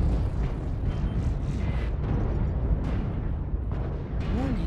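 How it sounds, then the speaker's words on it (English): Artillery rains down in a snowy MechWarrior Online skirmish, with a continuous roar of heavy rumbling blasts and booms layered over low engine drone. "Oh, artillery."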